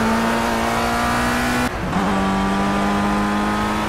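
A Formula Rookie race car engine in Project CARS screams at a steady high pitch around the Nürburgring, then drops sharply as the driver shifts and climbs again, loud and close throughout.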